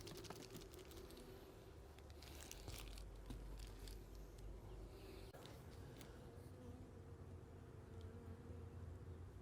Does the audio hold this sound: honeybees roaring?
yes